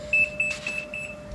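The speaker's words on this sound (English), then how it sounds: "The oven is beeping." Oven timer beeping in a home kitchen while a savoury vegetable bread pudding bakes, a few short high-pitched electronic beeps repeating in quick bursts, near and fairly loud.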